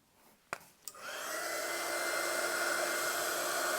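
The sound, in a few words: hair dryer drying a journal page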